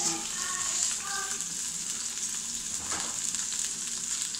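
Red tomato, a piece of onion and chile frying in a teaspoon of hot oil, a steady close sizzle running the whole time with faint clinks early on.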